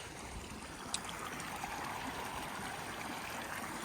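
A shallow mountain stream in Arizona, about 6,500 feet above sea level, runs steadily, a soft continuous trickle and babble of water with no voices, fairly quiet and even throughout.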